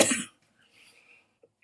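A single short cough up close, followed by near silence and then another brief burst of sound at the end.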